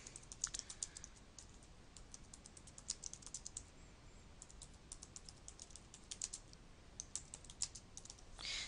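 Quiet, rapid tapping on a computer keyboard, with irregular bursts of clicking keys and short pauses, close and faint.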